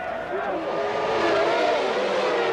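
McLaren Mercedes Formula 1 cars of Häkkinen and Coulthard launching from the front row at the start of a 1998 Grand Prix: a dense, sustained engine roar with rising pitch, heard at moderate distance.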